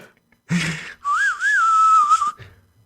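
Someone whistles a short wavering melody, clear and close, following a breathy burst of sound, then fades out before a voice starts.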